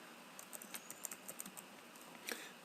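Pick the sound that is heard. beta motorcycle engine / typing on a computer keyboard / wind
typing on a computer keyboard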